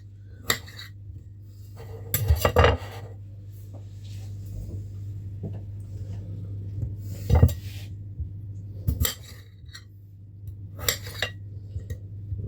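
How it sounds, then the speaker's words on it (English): Partridge layered with bacon and rosemary is basted in a pan, heard as scattered clinks and scrapes of a metal spoon against the pan over a low steady kitchen hum, close and without talking. "while it's cooking, we'll be basting it. Basting the partridge."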